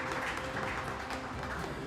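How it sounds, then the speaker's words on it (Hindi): Audience applause welcoming guests at an entrepreneurship event in Jaipur, a dense, even round of clapping from a sizable crowd, sustained throughout without speech. "जोरदार तालियों से हम सभी का अतिथियों का स्वागत करेंगे।"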